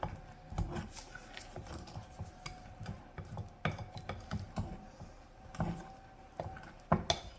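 Banana cake batter being mixed by hand in a bowl, a series of irregular soft scrapes and light clinks of utensil against the dish, close and fairly quiet, with no talking.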